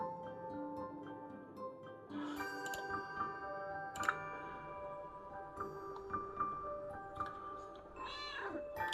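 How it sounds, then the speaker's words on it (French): A small cat meows softly a few times in a plant shop, faint, high and drawn out, over quiet background hum and light ticking. "Oh, il y a un petit chat."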